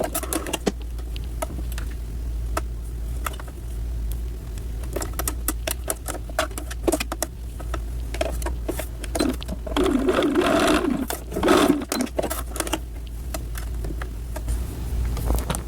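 A sewing machine runs a quarter-inch seam joining a sweater sleeve, whirring continuously and fairly close with a steady rhythmic clatter and a slight surge partway through, no voices.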